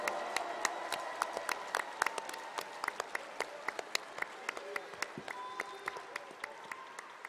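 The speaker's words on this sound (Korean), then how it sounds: "이 두 분을 위해서 힘찬 박수 보내주십시오" Applause from a party convention audience, made of many distinct, crisp hand claps in a fairly sparse, irregular patter that continues steadily throughout at moderate distance.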